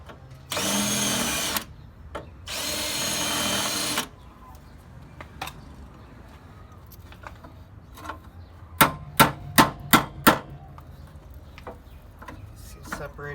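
Spot welds on a 3rd-gen Toyota 4Runner core support are worked apart: two long power-tool bursts, then scattered knocks and a fast run of five sharp, loud metal hammer blows, with faint talk between them.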